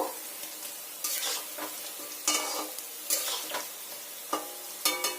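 Palm fruit fritters frying in oil, turned over to cook the second side: a continuous close sizzle broken by repeated bursts of bubbling and spatula scrapes, with no voices.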